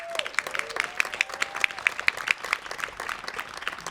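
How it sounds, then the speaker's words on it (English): Audience applause at a Latino Heritage Month illumination event, a moderate spread of clapping with sharp tonal pings running through it, steady and mid-distance throughout. "please give a round of applause to that."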